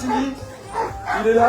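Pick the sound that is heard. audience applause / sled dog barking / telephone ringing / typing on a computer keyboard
sled dog barking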